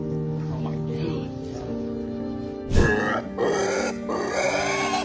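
A pig rescued from floodwater during Hurricane Ian grunts in low, rough bursts, mixed with other background noise and a sharp burst of sound partway through.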